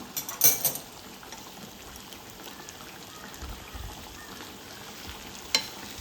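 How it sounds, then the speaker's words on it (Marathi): Jitada, a saltwater fish, fries on a pan over a slow gas flame with a steady, low sizzle, while a few brief clattering scrapes of flipping stand out near the start and near the end. "इकडे फ्राय टाकलेल्याच आहेत सगळ्या आणि गॅसची फ्लेम स्लो केलेली आहे तर स्लो फ्लेमवर उलट करून घेणार आहे"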